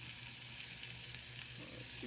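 Onion, tomato and garlic sauté in a pan for Filipino eggplant omelette, giving a steady close sizzle with soft stirring scrapes throughout and no talking.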